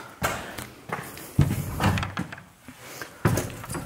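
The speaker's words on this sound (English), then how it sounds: "You wouldn't know that that was a door if I fully close it." A door in an old abandoned mansion is pushed fully shut, producing several wooden knocks and thuds in an uneven sequence, with a final firm closing bump near the end in a quiet room.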